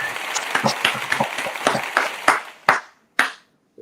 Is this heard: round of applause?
yes